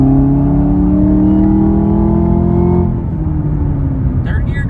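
Chevrolet Camaro ZL1 1LE engine revving hard through its gears during a 0-60 run, a loud rising drone that climbs in pitch, then drops at a shift near three seconds and builds again.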